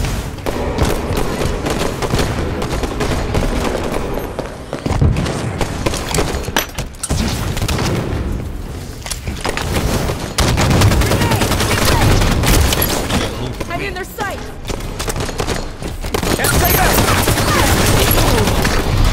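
Video game gunfire, dense overlapping bursts and booming shots rattling continuously and loudly for about twenty seconds, with brief lulls between volleys.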